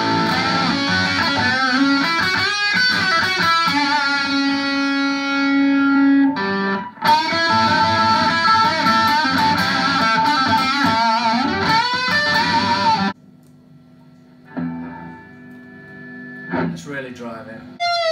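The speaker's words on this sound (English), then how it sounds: "Let's see what the Sweet Cream sounds like in front of that." Electric guitar played through a Tone City Sweet Cream overdrive pedal with gain at about a quarter, loud driven chords and ringing riffs with distorted sustain, stopping abruptly before quieter picked notes near the end.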